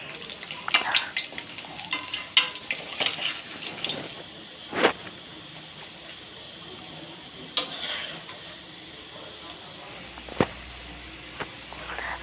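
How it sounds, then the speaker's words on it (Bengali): Peanut banana pitha fry in oil in a wok, making a quiet, steady sizzle with scattered sharp crackles and pops and no talking. "আমি একটা কড়াইতে অনেকগুলো পিঠে দিয়ে দিচ্ছি।"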